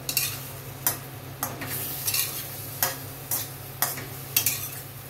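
A spoon stirs ground ginger into a summer okra and fenugreek curry in a pan, scraping in regular strokes about every half second over a soft, steady sizzle, with no one talking.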